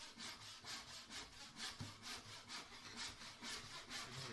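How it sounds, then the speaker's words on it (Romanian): Rip handsaw rasping through wood in a regular rhythm of quick strokes, close and clear, with no talking. "ferestrăul coadă de vulpe"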